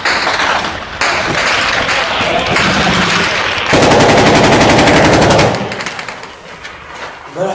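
Loud, close bursts of rapid automatic gunfire from a BMP armored vehicle during a combat operation in Qusayr, with a dense, sustained volley in the middle and no talk.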